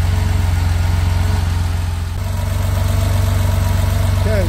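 A car engine idling at around 865 RPM, a steady low rhythmic throb close up with a slight dip in level midway and someone speaking briefly near the end.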